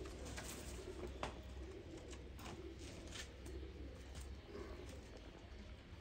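Pigeons coo softly and repeatedly at a distance, low murmuring calls over a faint, steady background hum.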